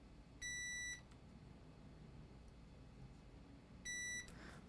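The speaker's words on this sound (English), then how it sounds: "Meter in continuity mode, and we're gonna measure from here to here, here to here." A multimeter in continuity mode gives two short, clear electronic beeps about three seconds apart while probing an iPad Pro 12.9 board. Each tone lasts about half a second over a quiet hiss, with no talk.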